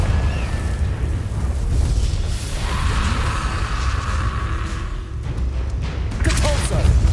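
A Confringo explosion spell cast in the video game Hogwarts Legacy, a loud rumbling blast with a whooshing, crackling burst that swells mid-clip, set within a continuous dense roar of game battle noise.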